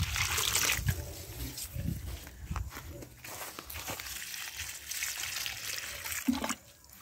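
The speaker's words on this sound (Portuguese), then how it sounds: "Você joga água. Tem que manter, né? Mantém a água ali pra planta." Water sloshes and trickles as it is poured onto freshly planted fruit tree seedlings such as cacao, abiu, carambola and jabuticaba, with close splashing bursts and soft footsteps outdoors.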